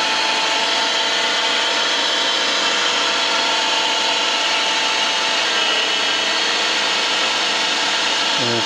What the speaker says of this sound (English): Let's get the spindle happening.